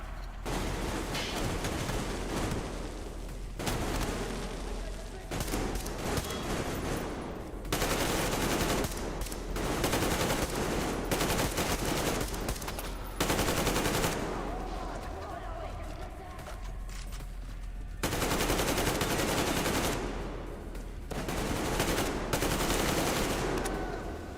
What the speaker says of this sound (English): They got a machine gun!